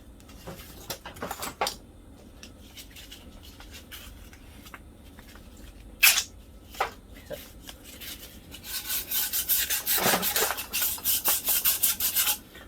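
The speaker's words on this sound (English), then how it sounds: "I'm using emery cloth and I'm using 240 grit" Emery cloth of 240 grit rubbed over a glazed motorcycle front brake part on a Harvey Spooner KD80, heard as scattered close scraping strokes early on and then a steady run of rapid rasping rubs toward the end.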